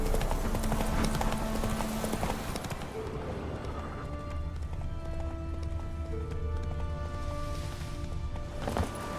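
Rhythmic hoofbeats of the horse galloping in The Witcher 3 video game, a fast steady clip-clop pattern continuing throughout, with brief spoken game dialogue and ambient game music underneath.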